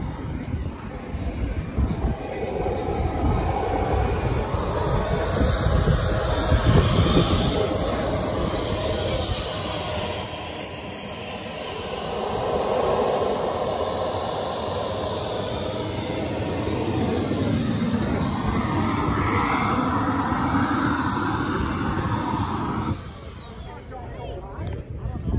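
A jet aircraft roars past at an outdoor airshow, a long, loud, continuous engine rumble and whine that swells and fades over about twenty-five seconds, with a high-pitched engine tone on top and a sudden drop near the end.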